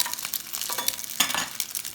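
Crab cakes frying in a pan, a close, steady sizzle with brief bursts of crackling and the scrape of stirring or turning, no voices.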